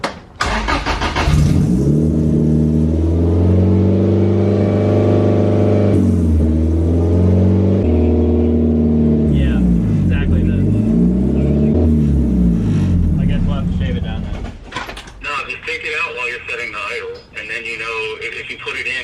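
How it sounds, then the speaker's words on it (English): A BEAMS-swapped Toyota AE86 engine starts and idles high with the idle air controller opened wide, a loud steady harmonic drone that rises and wavers before dropping off, with mechanical clatter and talk near the end. "I'm going to just open the idle air controller wide open. See how high it'll idle."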